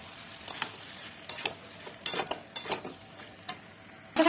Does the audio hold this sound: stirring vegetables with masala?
yes